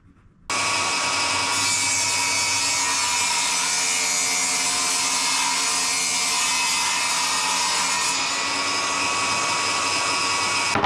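A saw cuts steadily through a wooden board, trimming it to 16 for a crosscut sled. The sound is loud, continuous and close, starting abruptly after a brief quiet moment and running without pause, with no talking.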